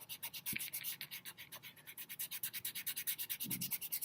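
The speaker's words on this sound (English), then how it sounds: "Just taking my finger and rubbing back and forth." A fingertip rubs and smears pastel across paper in a torn-paper winter landscape, a soft rhythmic back-and-forth scratchy rubbing that is steady and close, with no talking.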